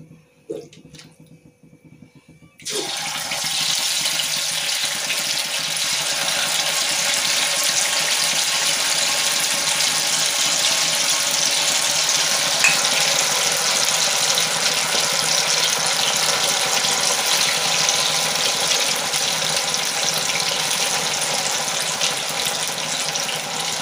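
Pieces of marinated chicken pakoda drop into hot oil in a pan on a gas stove and burst into loud, crackling sizzling. The frying starts suddenly after a quiet moment and keeps up as a steady, dense hiss.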